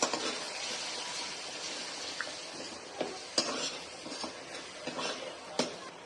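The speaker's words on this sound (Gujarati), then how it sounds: "ધાણા જીરું, હળદર, ગરમ મસાલો આ બધાને સરખું મિક્સ કરી લઈશું." Spices being stirred together in a cooking pan for a mung bean curry, with soft continuous scraping and stirring, a faint sizzle underneath and a few light clicks of the spoon against the pan.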